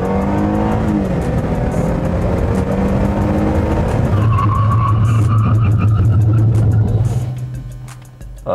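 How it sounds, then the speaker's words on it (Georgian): A 2012 Mercedes-Benz E-Class Coupe brakes hard on a test drive: loud, steady engine and road drone, then a sustained tire squeal that fades out near the end. "ეხლა ნახოთ მუხრუჯი. მუხრუჯი, მოდი."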